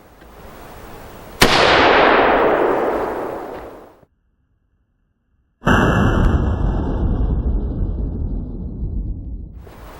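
AR-15 rifle fitted with an Armageddon Tactical Compensator muzzle brake fires two sharp, loud outdoor shots a few seconds apart, each blast cracking hard and then trailing into a long rolling echo.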